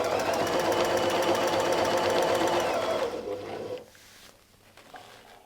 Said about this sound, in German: Mein Lineal möchte ich hier anlegen und ich nähe